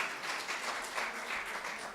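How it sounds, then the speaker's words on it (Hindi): Audience applause in a hall during a talk by Dr. Madhu Mohini, a steady, fairly faint wash of clapping across the whole stretch with no voices over it. "मधु मोहिनी जी के बाद दोबारा तालियां बजनी चाहिए।"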